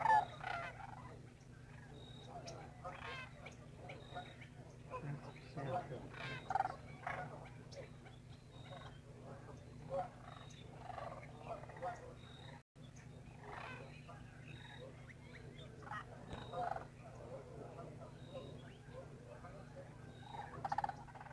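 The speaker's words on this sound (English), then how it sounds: "Okay, these are cranes." Cranes in a field at Cibola Wildlife Refuge give rolling, gobbling calls that come and go in faint, distant bursts over a quiet background, with occasional nearby voices.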